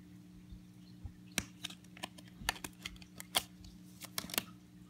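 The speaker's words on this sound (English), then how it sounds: "I'll take it out of the case real quick." A Topps Prime trading card is worked out of its plastic case, making faint, sharp plastic clicks and snaps in an irregular run over a quiet room.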